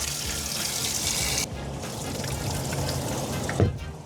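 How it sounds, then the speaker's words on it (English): A boat's live well pumps run, water gushing and splashing steadily, cutting to a softer trickling flow partway through, with a brief louder splash near the end. "live wells are running, picking up water how they should be"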